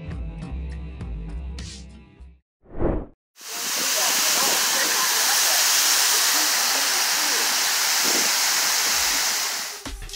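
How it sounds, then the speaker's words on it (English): A waterfall roars loud and steady for several seconds after a few brief unrelated sounds, then fades out near the end. "She just wanted to take a beautiful photo with this waterfall."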